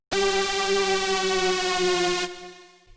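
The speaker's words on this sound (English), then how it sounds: "Lead warp speed has a pitch glide in it," A bright, buzzy supersaw-style warp speed synth lead from an STMPD-style sample pack holds one loud, steady note for about two seconds, then drops away and fades, with no voice.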